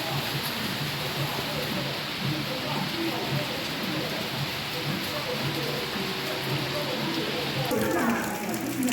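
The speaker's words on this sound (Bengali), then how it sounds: "বৃষ্টি কিন্তু এখনও থামেনি" Steady, even rain falls outside a home kitchen, a soft continuous hiss without breaks, heard alone with no talk.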